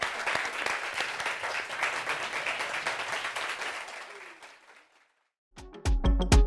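A crowd applauds with dense, sustained clapping that fades out, followed by a brief silence and then a few sharp, loud sounds.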